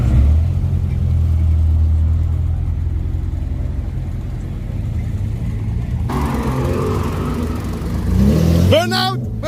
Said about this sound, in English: You hear the exhaust, the engines